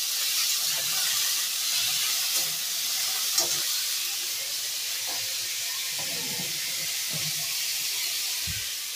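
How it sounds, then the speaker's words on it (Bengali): Potatoes fry lightly in a pan, giving a steady soft sizzle and hiss throughout, with a few faint clinks and stirring knocks close by. "আলুটা দিয়ে দেবো, একটু হালকা ভাজা হলে না একটু জল দিয়ে দেবো"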